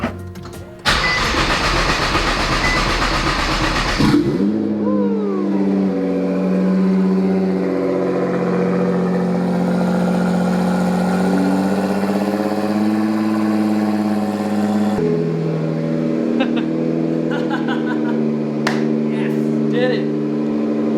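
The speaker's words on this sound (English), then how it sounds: "Let's start up the car and see if it actually works." A Nissan GT-R engine cranks briefly after a fuel pump install, catches and settles into a steady, loud idle heard up close for the rest of the stretch.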